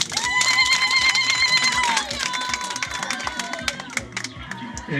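A village gathering breaks into crowd applause: steady, dense clapping with scattered sharper claps and high, drawn-out calls or ululation over the top, with voices mixed in.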